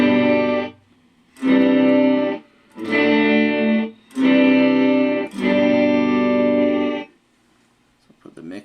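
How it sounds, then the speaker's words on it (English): Guitar through a Digitech Digiverb pedal on its gated reverb setting: five sustained chords, each ringing fully then cutting off abruptly into silence, evenly spaced, loud and close. "the gated essentially just gives you a reverb, and then after a certain amount of time just cuts it"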